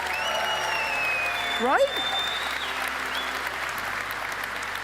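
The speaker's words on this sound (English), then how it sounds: "Let's clap it up for these guys." Applause from a crowd at an outdoor conference, a steady wash of clapping throughout that a loud nearby voice briefly speaks over.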